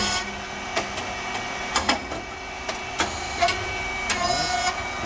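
A SYP4506 rice cake machine runs with a steady mechanical hum, punctuated by sharp clacks and bursts at irregular intervals, some paired, heard close up without any talking.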